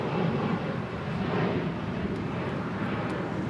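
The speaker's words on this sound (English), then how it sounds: "DHL 767 now rolling." A DHL Boeing 767 begins its takeoff roll at LAX, a steady broadband jet roar heard from a distance, continuous and even throughout with no talk over it.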